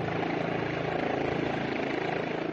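A trauma helicopter landing on a bridge in Amsterdam, its steady rotor chop and engine whine loud and close, an even, unbroken drone.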